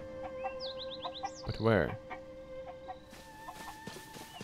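A cucco chicken in Zelda: Tears of the Kingdom gives a quick run of high clucks and then one louder squawk, fairly close, over quiet game music, with a short spoken line in between.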